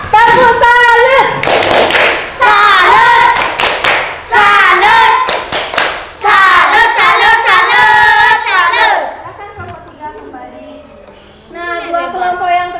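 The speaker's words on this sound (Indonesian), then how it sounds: "Beri tepuk salut dulu untuk kelompok 3." Schoolchildren in an Indonesian classroom break into loud group clapping in a rhythmic patterned 'tepuk salut' cheer for a presenting student group, repeated in several bursts with a teacher's voice and kids' chatter between them.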